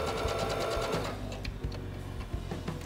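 Sewing machine stitching fabric, a steady fast mechanical whirring with rapid needle clatter running continuously and close, slowing slightly partway through.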